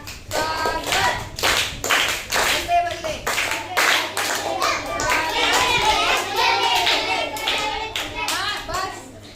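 Children clapping hands together in a classroom welcome, a lively run of sharp claps in bursts under a teacher's and kids' voices, close and fairly loud throughout.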